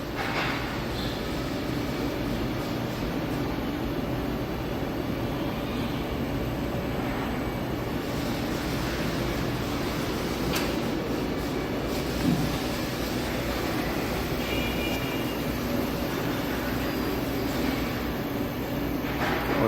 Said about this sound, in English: So the filament winder carriage is moving into its home position.